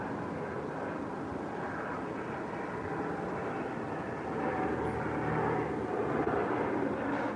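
A low-flying airplane passing overhead gives a broad, steady engine roar that swells slightly louder toward the end, with no talking.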